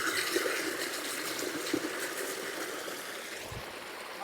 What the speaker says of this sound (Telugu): చూడండి వాటర్ సౌండ్ వినండి.